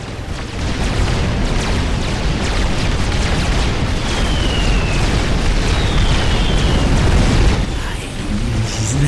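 Explosions roar as the Arch is destroyed in Supreme Commander: Forged Alliance, a continuous loud rumbling blast layered with booms that holds for several seconds before easing slightly.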